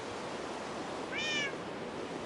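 A single short meow from a cat in Minecraft rises faintly above a constant background hiss, brief and fairly quiet, with no talking.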